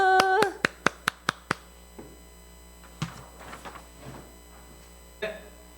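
About seven sharp, evenly spaced claps ring out in quick succession near the start, followed by sparse soft taps and scattered voices in a quiet room, then one more clap near the end.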